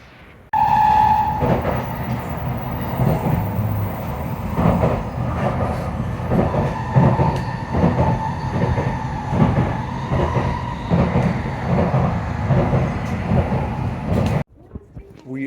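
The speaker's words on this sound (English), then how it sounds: "We are done with the trains today." A train ride on a Japanese railway, carriage rumble and rhythmic wheel clatter over rail joints running steadily and loudly for about fourteen seconds before cutting off abruptly.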